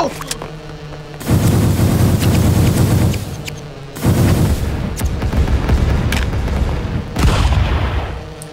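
Rocket explosions in Stick Fight: The Game come as three loud, heavy booms, each followed by a sustained rumbling roar, with short quieter gaps between them.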